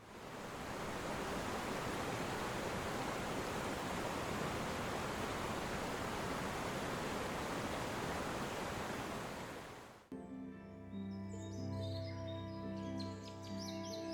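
Waterfall in Slovenia near Jezersko, a steady loud broadband rush of falling water filling the first ten seconds, then cutting to a quieter scene with tonal birdsong-like sounds.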